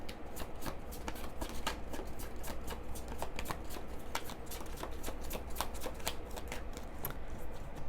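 Tarot cards being shuffled by hand, a steady run of close, crisp riffling flicks repeating quickly and evenly for several seconds, with no voices.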